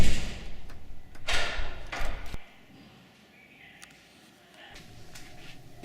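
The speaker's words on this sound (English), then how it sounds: "locking the door behind him." A door is pushed shut with a heavy thud amid rustling and shuffling, then a few small clicks follow in the quiet as it is locked.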